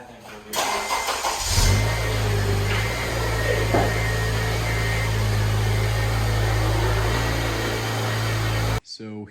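An 8th-generation Honda Civic Si starts up close by: after a brief quiet, the starter cranks and the engine catches, then settles into a steady, even idle that continues until an abrupt cut near the end.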